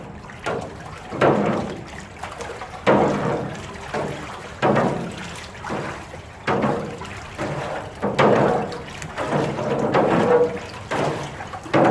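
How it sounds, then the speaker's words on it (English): Live Louisiana blue crabs stirred in a pot of water for Cajun-style cooking, giving repeated sloshing, splashing swirls in a steady rhythm, close and moderately loud with no talking. "Get this crab in there. Gotta give it a nice stir."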